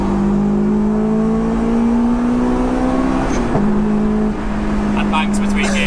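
A supercharged 416 bhp Honda S2000 running an HKS kit holds a steady high-rev drone with a hard, raw edge. There is a short break in the middle, then the engine pulls on again, loud and close.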